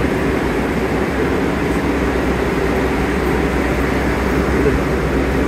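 A Times Square shuttle subway train on track one fills the platform with a loud, continuous rumble and steady roar from start to finish.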